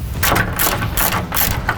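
Ratchet clicks from loosening 15 mm skid plate bolts under a 2011–16 Ford Powerstroke 6.7L truck come in quick repeated rhythmic bursts, close and fairly loud, with no one talking.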